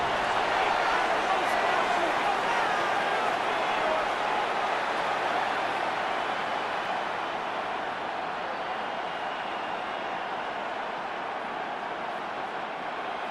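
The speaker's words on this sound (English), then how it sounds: "What about this crowd getting even louder before third and 10?" Stadium crowd in a Madden NFL 26 football game, Broncos versus Commanders, a dense steady roar filling the clip at a constant level before a third-and-10 snap, with no speech over it.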